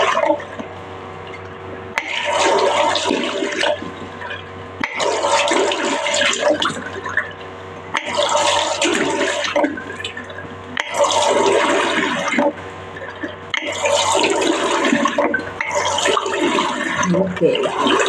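Running water splashes as a face is washed, coming in loud, close rushing bursts of a few seconds each, separated by short quieter gaps.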